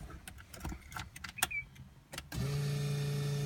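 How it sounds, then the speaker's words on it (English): A car's door and keys clatter in a few sharp knocks, then an Aeromotive A1000 fuel pump primes with a loud, steady electric whine and hum that continues to the end. "Hear the Aeromotive A1000 fuel pump. That's that loud noise there."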